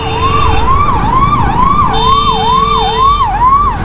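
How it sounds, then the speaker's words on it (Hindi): A loud ambulance siren wails in a fast, repeating up-and-down pattern, close by and continuous over traffic rumble on a market street in Kawardha, Chhattisgarh. "एम्बुलेंस जाती हुई।"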